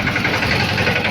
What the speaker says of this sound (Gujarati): હવે ટ્રેક્ટરને મૂકી આવી ઘરે